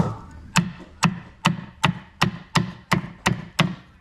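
A knife chops through crispy fried pork in a steady rhythm, about nine sharp crunchy cuts evenly spaced, close and clear with no talking.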